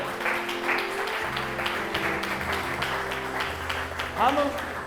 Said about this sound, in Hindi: I'll give the Lord a clap offering.